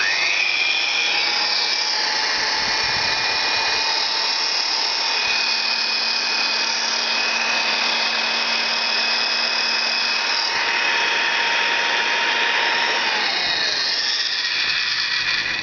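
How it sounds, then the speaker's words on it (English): An old electric drill motor runs steadily for the whole stretch, a loud, continuous whine with a constant hum, close by and alone. "Here's why I can plug this drill in and run it"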